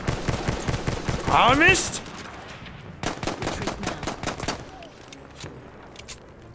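Gunfire in Battlefield 1, in the Sinai Desert Rush mode: bursts of rapid automatic shots close by, then scattered single shots, with someone talking and exclaiming over them.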